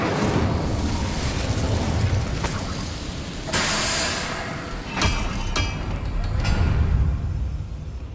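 Incendio fire spell cast in Hogwarts Legacy, a loud rushing burst of flame with sharp bright bursts near four and five seconds, set over a continuous rumbling game soundscape.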